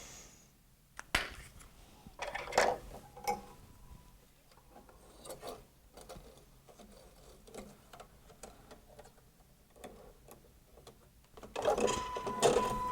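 Embroidery machine stitching a flower design on a sparkle tote bag, a soft, fast mechanical ticking and rubbing at close range, with occasional sharper clicks and a louder burst near the end.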